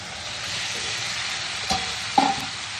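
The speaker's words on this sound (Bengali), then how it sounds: "মশলাটা কষানো হয়ে গেছে। এবার একে একে সব সবজিগুলো দিয়ে দেবো।" Vegetables being added to fried, well-cooked spice paste in a pan and stirred for a festive-style chhyachra: a steady close sizzle of frying with two sharp scraping stir strokes near the end.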